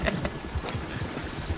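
Rapid clip-clop of horse hooves at a quick, steady gait in Red Dead Redemption 2, fairly close, with no talking.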